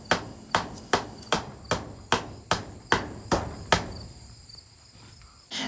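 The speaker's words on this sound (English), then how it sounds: "so I tapped them into the soil a few inches to get them started" Screw-in ground anchors for a chicken coop are struck into backyard soil with about nine evenly spaced, sharp taps, each ringing briefly before fading, followed by quiet.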